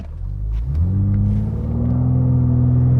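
A 510hp BMW M3 launches hard from a standstill under launch control, its engine rising from a low idle rumble into a loud, sustained roar as the car pulls away, close and steady with no talk.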